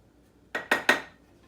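Three quick hard clinks ring out close by as a stone pestle is set down against a stone molcajete while making shrimp tacos, evenly spaced and followed by quiet.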